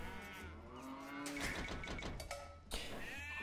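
Sheep bleat in the Age of Empires II strategy game, a few clear, wavering calls over a steady background of game ambience.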